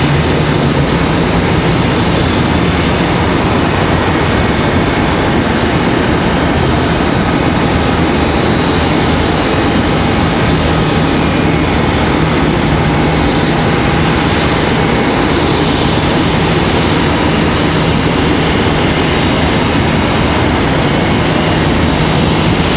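A Delta airliner in from Salt Lake City at Charlotte Douglas airport produces a continuous loud engine roar with a faint steady whine, unbroken and near for over twenty seconds, no talking.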